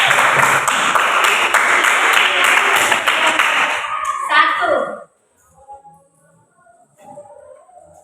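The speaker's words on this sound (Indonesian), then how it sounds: "Berikan tepuk tangan untuk kelompok 1." Classroom students clap for group 1 during an eighth-grade science lesson, a brisk burst of close, loud hand clapping lasting about four seconds, then fading into quiet with a few small sounds and brief murmurs.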